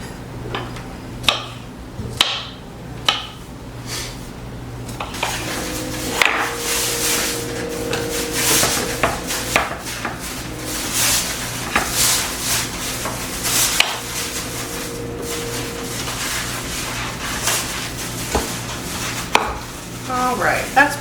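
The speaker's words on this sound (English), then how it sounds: "I'm just gonna cut my strawberries into smaller pieces" Knife cutting strawberries into smaller pieces on a board in a home kitchen, a run of repeated close, sharp chopping taps that come in bursts with short pauses and a steady low hum behind them.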